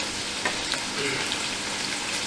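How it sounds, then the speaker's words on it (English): Onions browning in a pan as the base for a fish curry, a steady, close, even sizzle throughout with a few faint clicks and no talking. "So the onions we're going to take them to brown, which is a bit translucent."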